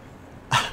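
A dog on a disc golf course gives one short, sharp bark or cough-like huff, fairly near, standing out briefly from light outdoor background noise.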